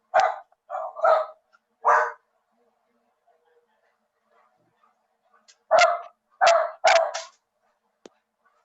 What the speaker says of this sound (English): I think that barking is right on cue.